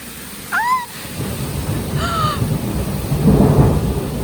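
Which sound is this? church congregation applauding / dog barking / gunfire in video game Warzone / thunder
thunder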